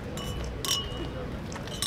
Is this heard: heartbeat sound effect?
no